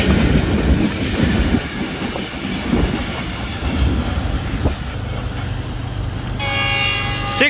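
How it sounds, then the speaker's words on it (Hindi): A new Chinese-built Green Line passenger train rushes fast through Dhabeji railway station at about 100 km/h, a loud continuous rumble and roar of wheels and wagons up close, ending with a blaring horn as it passes. "six down new Chinese green line इस वक्त गुजर रही है धाबे जी रेलवे स्टेशन, बहुत ही फास्ट एक्शन देखने को मिल रहा है"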